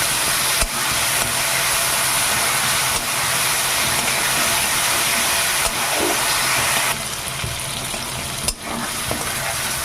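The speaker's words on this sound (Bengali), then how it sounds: "দেখুন আমি পেঁয়াজ আর এগুলোকে একটু ভেজে নিয়েছি হালকা" Onions with chopped tomatoes frying lightly in a pan for a khoira fish curry, a loud, steady sizzle with occasional stirring knocks and no talking.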